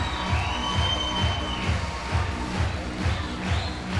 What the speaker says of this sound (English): Now the crowd are on their feet.